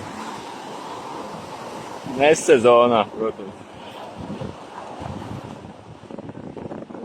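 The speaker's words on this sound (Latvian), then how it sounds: "Šādā vulkāniskā pludmalē dosimies Egejas jūrā baudīt" Waves wash onto a volcanic beach on the Aegean Sea as a steady, moderately close surf roar mixed with wind buffeting, while a voice speaks briefly over it.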